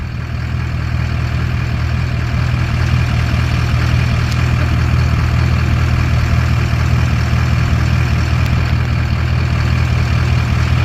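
A heavy farm tractor engine, an 860, idles with a steady, deep rumble that never changes, loud and close throughout.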